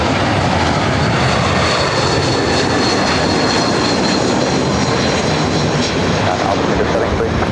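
A fixed-wing airliner at LAX roars loud and steady for the whole stretch as it comes in to land on runway 24 right, with a broad, continuous engine and wind rush and no pauses.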